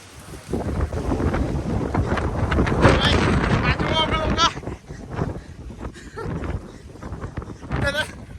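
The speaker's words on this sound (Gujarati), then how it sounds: "બહુ ખતરનાક પવન ને એવું આવે છે" Strong wind at Manukau Head Lighthouse near Auckland, New Zealand, buffets the microphone in heavy rumbling gusts, with someone talking over it and brief quieter lulls near the end.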